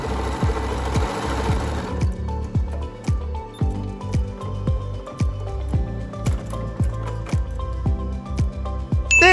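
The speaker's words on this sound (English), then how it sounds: "When sewing with the 3-step zigzag, try to keep the 2 inner stitches on either side of the tear for maximum strength." A sewing machine running a 3-step zigzag stitch across a clothing tear backed with stabilizer, a rapid, even mechanical chatter of needle strokes that continues steadily, close and clear.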